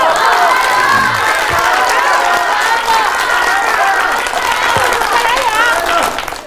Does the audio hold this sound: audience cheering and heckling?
yes